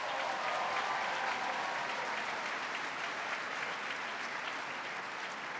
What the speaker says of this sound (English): Let's give a round of applause to our students.